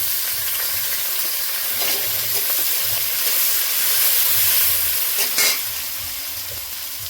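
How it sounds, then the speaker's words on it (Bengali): Onions hit hot oil already holding garlic and green chili in a pan, giving a steady, close sizzle with stirring scrapes over it and no talk. "এবারে পেঁয়াজ দিয়ে দেবো।"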